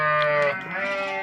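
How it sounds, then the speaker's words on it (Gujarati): Goats bleating close by, a loud sustained wavering bleat followed by a second overlapping cry, with no other sounds around them. "ભેગા હલવાડ્યા બકરા હવે જુદા પાડે છે"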